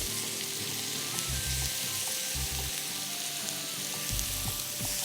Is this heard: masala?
yes